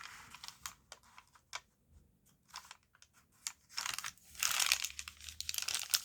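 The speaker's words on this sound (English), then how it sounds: "I love that sound, crinkly, crackly, crunchy, so nice." Paper page folded and creased by hand for a junk journal, giving close, dry crinkling and crackling in short bursts with brief pauses, building to a denser, louder crunch near the end; no talking.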